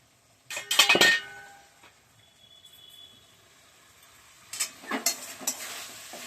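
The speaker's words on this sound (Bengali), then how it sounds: "এবার আমি ঢাকনাটা তুলে দেখব কি অবস্থায় আছে" A metal lid clinks as it is lifted off a pan of spiced cauliflower and potatoes. A faint sizzle follows, then more clattering of utensils and a rustling stir.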